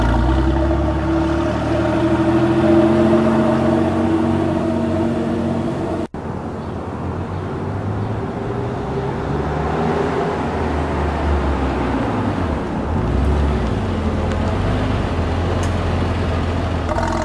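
A 400 hp all-wheel-drive car with a six-speed manual, weighing about 3,300 pounds, accelerates from 0 to 60 mph. The engine drones loud and close, a brief drop marks a gear change, then the pull and road roar continue.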